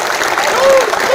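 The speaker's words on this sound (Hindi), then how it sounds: "तालियां बजाकर इनका स्वागत करेंगे" Brief burst of audience clapping welcoming guests at an outdoor Holi gathering, steady and fairly close, with a voice briefly audible over it.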